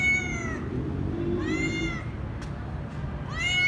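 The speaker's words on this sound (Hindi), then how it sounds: "पता नहीं ये बिल्ली किसकी है" A caged cat meowing three times, each a drawn-out rising and falling call spaced about a second apart, fairly close over a steady low background noise.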